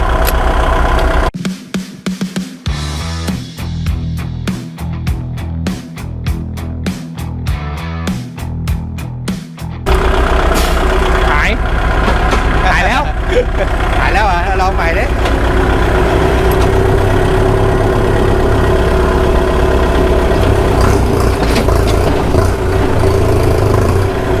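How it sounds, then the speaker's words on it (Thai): New tractor with loose wheel nuts, its engine running loud and close with a rough, rhythmic knocking clatter, then a steady heavy drone with more mechanical rattling. "แค่น็อตล้อหลวมบางทีอ่ะทุกคน ทำให้มีเสียงดังเหมือนเครื่องแตกเลยนะ"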